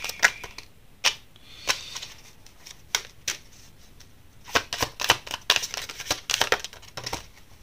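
Tarot cards being shuffled and drawn close up, a series of crisp riffling snaps and soft slides, sparse at first and then quicker and busier toward the end, with no talking.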